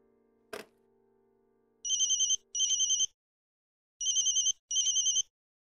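Telephone ringtone sounding in two pairs of short electronic trills, each burst about half a second long with a pause between pairs, loud and close after a brief click, with no voices.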